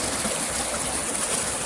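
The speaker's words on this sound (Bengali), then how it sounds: "নদীর পানির যে শব্দটা শুনতেছুন" Cool river water at a picnic spot rushes in a steady broadband wash close by, continuous and fairly loud, with no voices.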